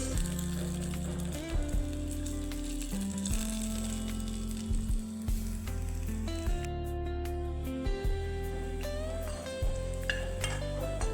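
Sesame seeds roasting in a pan for Sankranti ellu and pongal, a steady sizzle with scraping and clinking of a spoon or spatula stirring against the pan, close and continuous, no voices.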